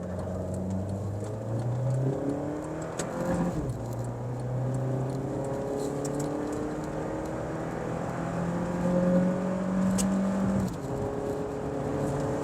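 A Honda Civic pulls away hard from a standstill, its engine note climbing steadily through the revs and then dropping with a shift before rising again, loud and close with no talk.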